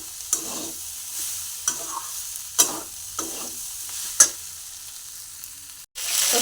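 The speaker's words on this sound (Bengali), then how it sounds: "ফুলকপি ভাজতে বসিয়ে দিয়েছি" Cauliflower frying in oil in a pan, a steady close sizzle broken by several sharp stirring scrapes at irregular intervals, with no talk.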